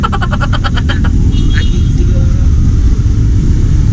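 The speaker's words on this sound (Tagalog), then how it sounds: "kita nyo naman kung gaano ka traffic dito ngayon" Heavy road traffic near Luneta Park in Manila, a loud steady rumble of car engines close by, with a short run of horn-like pulses at the start.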